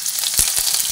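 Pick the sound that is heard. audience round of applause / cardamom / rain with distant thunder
cardamom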